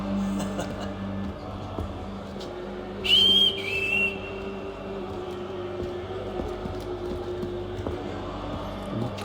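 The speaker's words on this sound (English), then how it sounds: "Kok ada whistle-nya gitu?" A signal whistle sounds in Assassin's Creed 3, a single sharp, loud two-part blast standing out over a steady low hum of game ambience.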